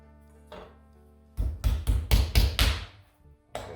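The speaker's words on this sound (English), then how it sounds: "I'm just going to pound it out a little bit" A New York strip steak pounded with a meat tenderizer, a quick series of about six heavy close thuds on a board, then a pause and one more hit at the end.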